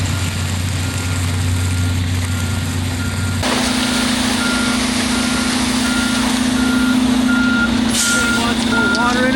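A dump truck backs up with its backup alarm sounding steady, evenly spaced beeps over a loud diesel engine rumble that shifts in pitch partway through, on a residential driveway job site.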